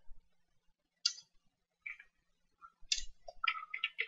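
Someone types on a computer keyboard during a Photoshop text-portrait tutorial, producing scattered light clicks in short bursts, sparse at first and then quicker near the end, faint and close with no talking.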